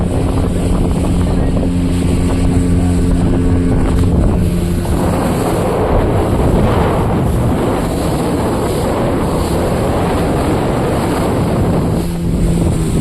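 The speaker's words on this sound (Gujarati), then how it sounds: "અત્યારે અમે લોકો સ્પીડ બોટની રાઈડ કરી રહ્યા છીએ" A speedboat engine roars steadily while heavy wind buffets the microphone and seawater rushes past the hull, loud and continuous, on a ride to Bet Dwarka island.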